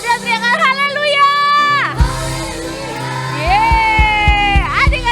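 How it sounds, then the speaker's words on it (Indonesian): A crowd of children at a church kids' service erupts in loud, high-pitched shouts of hallelujah, several bursts of excited cheering and whooping close by. "Kalau ada teriakan haleluya"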